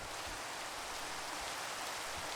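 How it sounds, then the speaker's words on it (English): Steady rain falling in a video game, a dense even hiss of drops filling the whole stretch with no pauses or other sounds. "Why would it not be raining here, but it's raining here?"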